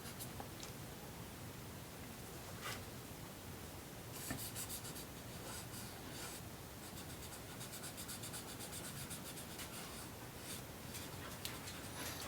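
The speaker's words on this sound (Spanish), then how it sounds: "lo hago con mi lápiz directamente dibujo algunas sombras donde quiero que tenga mayor oscuridad" A pencil scratches and rubs on paper during an anatomical figure drawing, shading strokes steady and close, with a few brisk scribbling bursts throughout.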